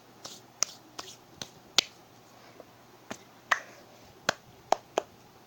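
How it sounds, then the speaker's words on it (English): A handful of sharp, separate hand claps or snaps, close and irregularly spaced, about ten crisp hits over a quiet background. "Let's just clap for how much of a noob I am."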